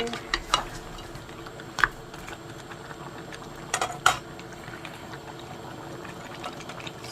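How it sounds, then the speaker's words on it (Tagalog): Buttered seafood sauce with shrimp is stirred in a pan over a low bubbling simmer, with several sharp scrapes and clinks of a spoon against the pan spaced irregularly, close by. "Haluin lang natin, no?"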